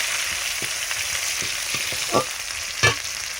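Chopped onions fry with bay leaf and panch phoron in hot oil, a steady broad sizzle running throughout, with a few soft stirring clinks and scrapes standing out near the end.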